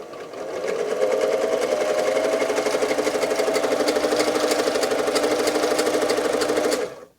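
A Singer 247 sewing machine with a suspected mechanical fault runs fast and steady for about six seconds with a rapid rattling clatter, then stops abruptly; no one speaks.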